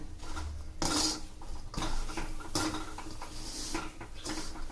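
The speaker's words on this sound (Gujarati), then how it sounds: "આ રીતના બધા મીઠામાં છે ને શેંગદાણા શેકી લેવાના છે" Peanuts dry-roasting in salt in a pan at home, a continuous gritty rattle and scraping with periodic louder stirring clatters of a metal utensil against the pan, close and steady.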